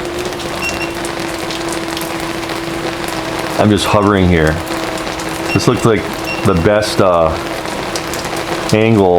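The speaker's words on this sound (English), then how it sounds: "Now it's really coming down. Look at those raindrops." Heavy rain beats steadily on a roof during a waterproof drone test, a dense continuous hiss with a faint steady hum underneath, while someone talks over it in short bursts.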